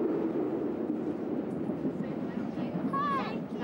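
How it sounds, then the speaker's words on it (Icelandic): A train rolls along the track, a steady mid-level rumble of carriage noise running throughout, with a brief high squeal near the end and a voice talking over it. "Og þá fer lestin af stað."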